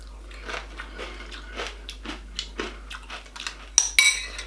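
Crunchy Special K type cereal eaten from a bowl with a spoon, with soft repeated chewing and crunching at a close distance, followed near the end by a couple of sharp clinks of the spoon against the bowl.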